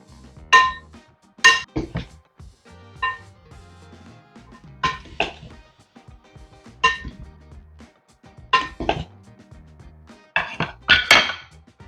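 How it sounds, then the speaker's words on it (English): Salad ingredients tossed in a bowl for a healthy meal-prep salad, giving a series of sharp clinks and clatters of utensils against the bowl in irregular bursts, close and fairly loud with quiet gaps between. "I'm going to give this a toss. Just to combine all of these ingredients."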